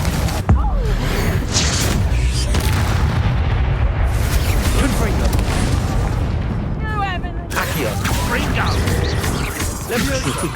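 Confringo spell explosions in the Hogwarts Legacy video game boom repeatedly in a dense, continuous barrage of loud blasts and crackles, with voices heard over the combat.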